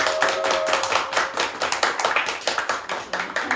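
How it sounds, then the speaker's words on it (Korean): An audience applauds at a Korean nature school's lecture on relationships, part of a future-education talk series. Dense, steady clapping carries on alone with no talk, lively and close. "큰 박수로"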